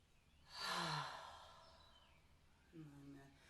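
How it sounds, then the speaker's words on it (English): A long, breathy exhale during a breathwork and meditation session, a soft airy rush that swells and then fades, followed by a brief lower hum of a voice near the end. "Audible exhale."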